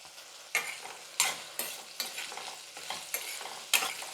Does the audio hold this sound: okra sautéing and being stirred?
yes